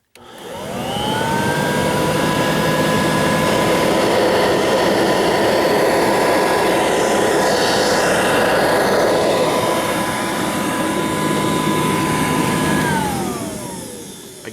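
A Kirby vacuum cleaner, a Dual Sanitronic 80 or Heritage II, spins up and runs steadily at close range with a loud motor whine and airy suction roar, then winds down at the end, with no talking.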